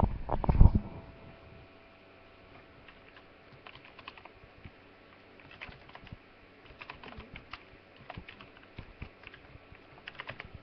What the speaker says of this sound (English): I'm just going to type on here 1 second.